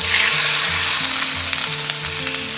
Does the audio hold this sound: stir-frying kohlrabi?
yes